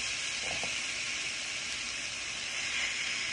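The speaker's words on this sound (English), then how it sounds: "So now all we're doing is stir frying the salmon" Salmon stir-fries in a pan with a little oil, giving a steady, soft sizzling hiss with no talk.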